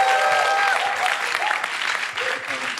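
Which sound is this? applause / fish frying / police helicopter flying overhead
applause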